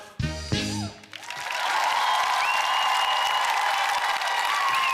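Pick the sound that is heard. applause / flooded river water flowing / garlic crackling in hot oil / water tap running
applause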